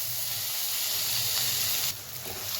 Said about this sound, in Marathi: कांदा व्यवस्थित कच्चेपणा जाईपर्यंत परतून घ्यायचा।